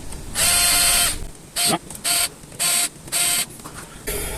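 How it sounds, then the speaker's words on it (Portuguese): Rifle scope mount screws tightened on a rifle, likely with a powered driver, heard as several short whirring mechanical bursts, one long then four brief ones, loud and close with pauses between. "eu vou só começar o aperto dos parafusos"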